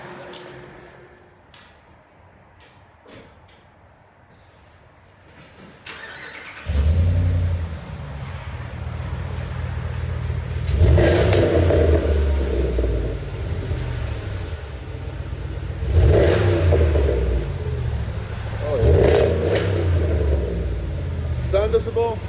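A deep-toned RAM 1500 5.7L HEMI V8 pickup with a Flowmaster aftermarket muffler starts up and revs repeatedly in strong bursts, loud and close, reaching about 93 decibels, with brief talk in the quieter opening.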